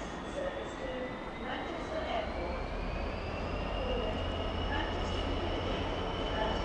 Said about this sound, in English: Nope, it's not even a freight train, it's just a lonely locomotive.